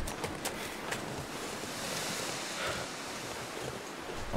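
Steady wind blowing through the wintry wilderness of the survival game The Long Dark, a continuous broadband rush with soft gusting swells and no speech.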